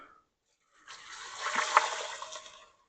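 Stock pours into a pot for an Italian beef sandwich, a soft splashing trickle that builds, swells briefly, then tapers off, heard close and alone.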